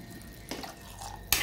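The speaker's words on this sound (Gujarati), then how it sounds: "હવે પાણી ઉમેરીશું," Water poured into a pot while making a spicy green corn chevdo, with a soft running trickle and a louder splashing burst near the end, fairly faint overall.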